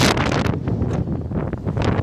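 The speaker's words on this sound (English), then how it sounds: "Woohoo, windy day." Wind gusting hard on a windy day, buffeting the microphone outdoors beside a Mitsubishi Mirage 1.2 hatchback with uneven, rumbling bursts and rustling throughout, close and fairly loud, with no speech.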